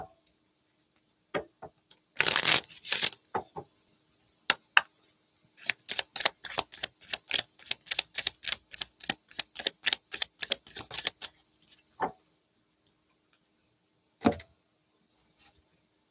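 Hand-drawn oracle cards are shuffled in crisp, close bursts, including an early flurry and a long run of rapid, regular card snaps, followed by a few isolated taps.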